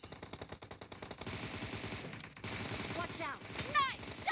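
Rapid automatic gunfire in a PUBG Mobile team deathmatch rattles in steady bursts of sharp shots, then denser overlapping fire with ricochet-like whines, while a player talks quietly beneath the shooting.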